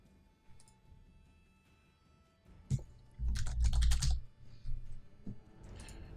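Rapid clicking of computer keys and a mouse while playing a video game, bursts of dense fast typing that swell loudly in the middle, close by, with no talk.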